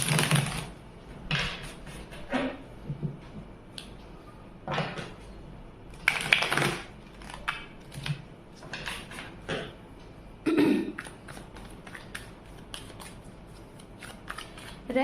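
Tarot cards being shuffled by hand, a run of quick papery riffles and soft flicks in uneven bursts, fairly close, with small taps and handling noises between them and no talking.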